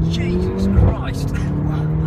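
Mercedes A45 AMG engine driven in sport mode with paddle shifts, loud close roar with a pop and rising revs, heard from inside the car alongside an excited voice.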